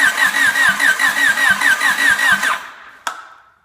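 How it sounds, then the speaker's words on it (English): A small engine cranks over during a compression test with the throttle held open, chugging in a fast, even rhythm of about a dozen loud compression strokes before it stops, followed by a single sharp click and a fading ring. "Hold the throttle open and hold on to your britches, because this thing's about to start cranking right in your hands"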